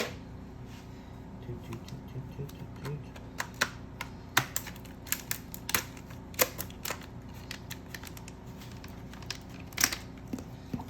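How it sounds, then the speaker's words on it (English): Scissors snip and plastic crinkles in a series of sharp, irregular clicks and rustles as a computer RAM packet is cut open, close up, over a steady low room hum. "I'm going to open our packet here with some scissors."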